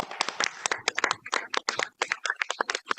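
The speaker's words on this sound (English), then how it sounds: "join me in a hand of applause for them" Scattered applause for city staff at a city council meeting, a small group clapping unevenly in quick irregular claps, fairly faint and thin.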